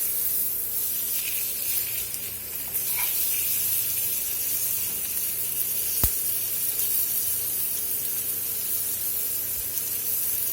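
Steak au poivre sizzles steadily in a hot pan with thyme, a continuous hissing spray of fat broken by one sharp click as the meat is flipped.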